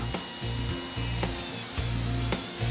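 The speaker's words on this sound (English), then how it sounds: "begin drilling from the inside of the tire with the drill turning in a clockwise direction" A low-speed drill bores through a truck tire injury from the inside, its motor running in repeated bursts of steady whine with brief pauses between passes, close and fairly loud with no talk.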